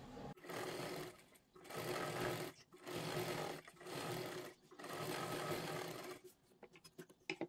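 Sewing machine stitching a katori blouse seam, running in five bursts of one to one and a half seconds separated by short pauses, then light clicks and handling at the end.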